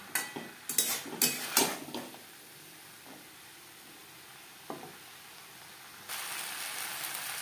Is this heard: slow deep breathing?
no